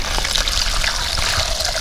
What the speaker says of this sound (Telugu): 2 సార్లు బియ్యం కడుక్కొని వంపుకొని